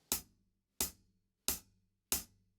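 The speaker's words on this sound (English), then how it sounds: "So if we take a normal hi-hat strike," Four evenly spaced, unaccented hi-hat strikes on a drum kit, each a crisp bright chick with a quick decay, played alone and close at a moderate level with short silences between hits.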